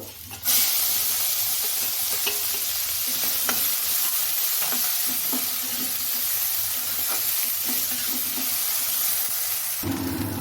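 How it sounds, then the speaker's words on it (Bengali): Dried fish (shutki) frying in leftover oil in a pan after potatoes were fried, giving a steady, close sizzle and hiss with occasional stirring scrapes throughout. "এখন যতটুক তেল আছে ওই তেলে আমি শুটকিগুলো ভেজে নেব"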